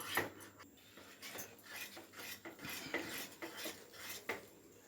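A spoon stirs kummayam sweet in a heavy-bottomed pan, giving soft, irregular scraping and clinking metal contacts, close and fairly quiet, with no voices.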